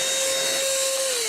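An Oraimo handheld vacuum cleaner runs steadily and loudly at close range, a constant motor whine with a high airy rush of suction, lasting about a second with no one talking.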